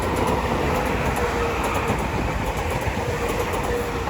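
Class 465 unit 465174, bound for London Charing Cross at New Cross on the South Eastern Main Line, rolls past with a steady, close rumble and faint rhythmic wheel clatter.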